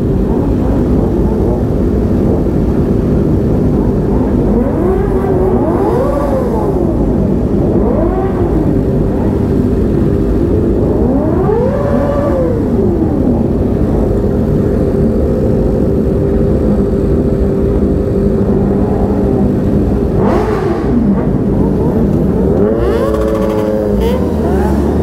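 Kawasaki H2 four-cylinder motorcycles, a large group of about 26, riding at night, with loud continuous engine drone and repeated rising and falling revs as bikes accelerate past, dense and close throughout.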